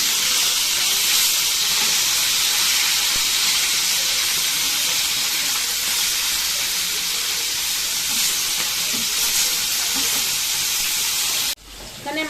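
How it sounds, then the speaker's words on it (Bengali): Fish pieces frying in oil, a dense continuous sizzle and hiss close by throughout, cutting off sharply near the end. "মাছগুলো এক পিস করে ভাজা হয়ে গেছে"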